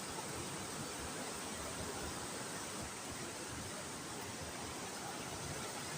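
Water rushes hard over Kaguro Falls and its dam, a strong, constant broadband roar that never lets up, heard close and loud with no voices over it.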